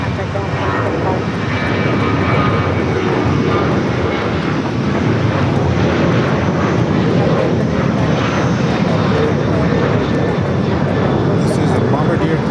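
A Bombardier Global 5000 business jet at LAX gives off a loud, steady broadband roar that runs without a break throughout, with voices faintly mixed in.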